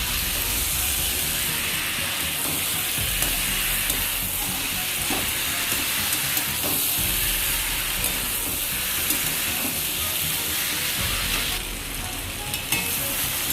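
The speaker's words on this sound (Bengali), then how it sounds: "এবারে এঁচড়গুলো চাল আর মশলাটার সঙ্গে একটু ভালোভাবে মিশিয়ে নিচ্ছি।" Fried jackfruit being stirred with Gobindobhog rice and spices in a pan for jackfruit dalna, giving a steady, hissing sizzle with frequent scraping and clinking of the spoon throughout.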